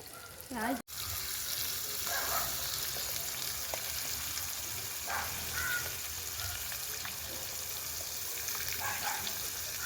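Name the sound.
snakehead fish (varal) frying in a pan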